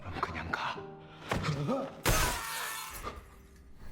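Glass panels on the Squid Game glass bridge shatter in a loud, sudden crash of breaking glass, following thuds and a muffled voice, with debris ringing on afterward.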